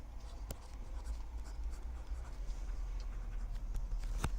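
Marker or chalk scratches and taps on a classroom board during a math lecture. The strokes are soft and continuous, with a few sharp ticks, heard close over a low room hum and with no talk.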